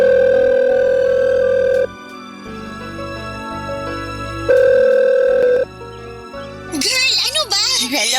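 Steady tone from a cellphone, like a telephone dial tone, sounding in bursts. It is broken by speech-like sounds near the end.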